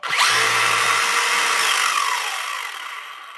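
A JJRC Q130 Pro brushless RC car motor running at full speed, a loud high-pitched whine that rises sharply, holds, then fades as the throttle is released.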